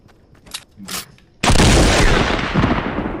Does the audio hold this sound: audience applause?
no